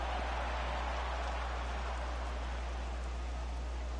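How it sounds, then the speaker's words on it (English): Heavy rain pours down at a ballpark in MLB The Show, a steady, even hiss with no break across the whole stretch. "that rain is really coming down right now"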